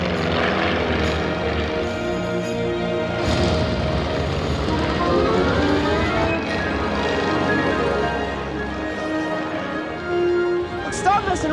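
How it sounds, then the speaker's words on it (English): A propeller aircraft engine drones loudly and steadily throughout, with voices talking over the constant roar. "The engine's making a lot of noise."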